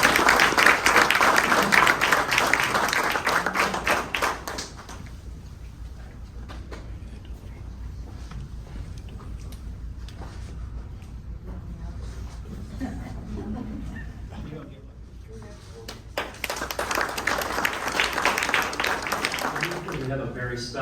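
An awards-room audience bursts into applause for a driver-of-the-year winner at a racing team event, loud clapping that fades into quieter room noise before another round of clapping near the end.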